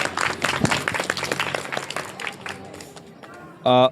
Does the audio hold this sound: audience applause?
yes